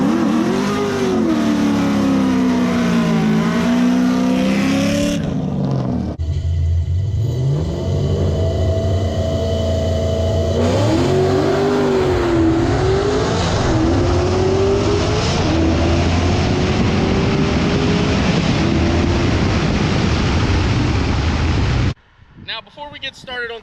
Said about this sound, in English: this is my 99 C5 Corvette